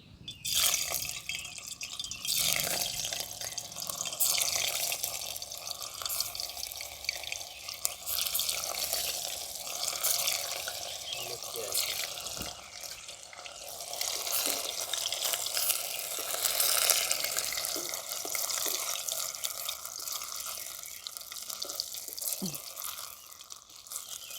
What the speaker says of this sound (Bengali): ময়দাটাকে আমি যে টুকরো টুকরো করে রেখেছিলাম এগুলোকে আমি এবারে এই তেলের মধ্যে ভেজে নেবো